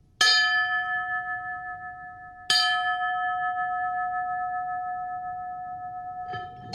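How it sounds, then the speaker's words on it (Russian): A bronze bell struck twice, each hit a bright clang that rings on with long sustained humming overtones and slowly fades, then a third strike begins at the very end. "Вот послушайте, какой все-таки неповторимый звон."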